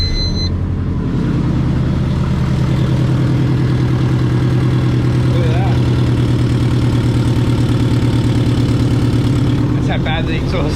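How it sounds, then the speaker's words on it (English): A twin-turbo Subaru Forester engine idles loudly and steadily with a deep, pulsing rumble and rattling exhaust leaks, close by and continuous throughout. "Let's see how loud this is from all of the exhaust leaks."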